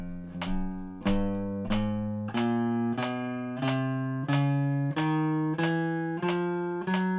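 Guitar notes struck steadily on the beat, about one sharp attack every two-thirds of a second, each ringing until the next in an even, close pulse with no talking.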